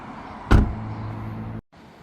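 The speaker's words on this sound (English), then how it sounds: "So let's shut the door and we'll take a look at the driver's side next." A single solid thud as the door of a 2025 Alpine White BMW M2 shuts up close, followed by a low steady hum that cuts off abruptly near the end.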